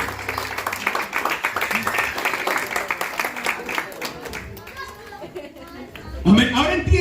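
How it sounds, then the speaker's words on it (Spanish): Applause for men in a church congregation, dense overlapping clapping from a crowd that fades after a few seconds into murmuring and a voice, with a louder burst near the end. "Tenemos un aplauso a estos caballeros valientes"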